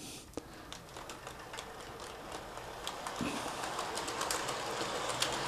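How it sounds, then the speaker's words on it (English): An HO scale model train runs around a layout, its small wheels clicking and rattling over rail joints in a faint, steady stream with scattered light ticks. "I'm going to start the Steeler train just to show you the operation, and it's just going to go around in a circle"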